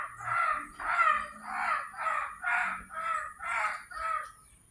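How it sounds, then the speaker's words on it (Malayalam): Crows cawing as they gather in growing numbers: eight harsh, evenly spaced caws ring out nearby one after another, loud and clear with no talking. "കാക്കകളുടെ എണ്ണം കൂടി വരുന്നുണ്ട്."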